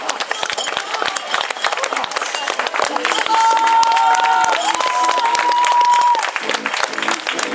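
Spectators at the finish line of a half marathon in Iława, Poland clap and cheer as a wheelchair racer crosses, steady dense applause with crowd noise throughout and a brief whistle-like tone in the middle.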